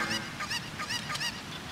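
Chickens in a video game squawk and cluck in a rapid series of harsh, honking calls, fairly loud and close, with no talking over them.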